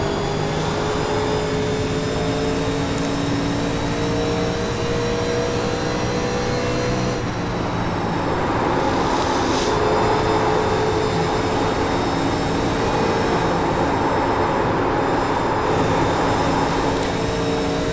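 A race car engine held at full throttle in NASCAR Legends at Darlington Raceway, a steady loud droning whine that shifts pitch slightly midway, running alone without talk.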